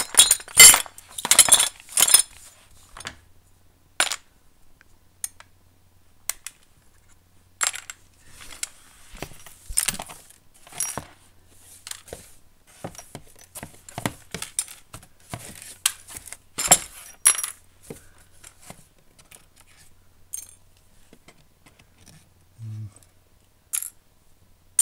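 Glass shards tossed onto sheet metal give bursts of bright clinks and rattles, loud clusters early on, then scattered sharper tinkles and pauses, with no voices.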